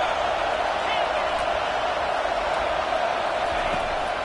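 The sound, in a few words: crowd noise rising in a college football video game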